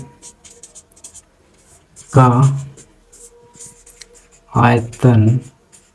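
A teacher writes a formula on the board in a Class 10 maths lesson, with faint, scattered scratching strokes running throughout, partly between and partly beneath a man's speech.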